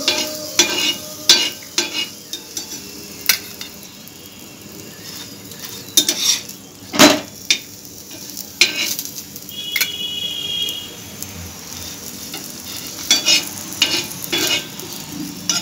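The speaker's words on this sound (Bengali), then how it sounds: "আমি এখানে সাদা তেল দিয়ে ভাজছি," A potato-stuffed palm paratha fries in white oil in a pan over low heat, a soft steady sizzle broken by repeated scraping and clinks of a spatula against the pan, close and without talk.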